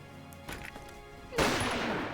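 A sniper rifle in the Valkyria Chronicles video game fires with a sudden loud blast that leads into a sustained, noisy roar. Softer game sounds come before it.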